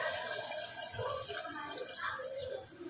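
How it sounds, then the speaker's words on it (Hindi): Water poured into a pan of fried spices while cooking kaleji salan, a steady splashing, running pour lasting the whole moment, close and fairly loud with no talking. "आप इसमें पानी डाल रहे हैं,"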